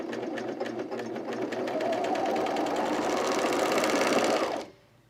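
A serger runs steadily along the curved seam of a zip hoodie, its motor whirring close and loud for over four seconds before stopping abruptly.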